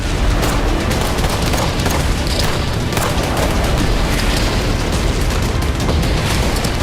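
Dense, loud rumbling blasts and crackling bursts in a war zone pile on top of each other continuously, like heavy explosions and gunfire in close succession.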